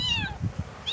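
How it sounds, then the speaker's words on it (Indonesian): A cat meows twice, short and fairly close, with a brief gap between the calls over low background rumble. "Ini ada kucing lagi. Ada kucing lagi ya."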